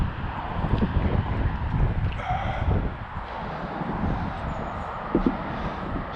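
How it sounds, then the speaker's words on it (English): Wind gusts at an outdoor demolition site, a steady broadband rush with a few louder bursts and scattered knocks, fairly close and continuous throughout. "It's a bit windy."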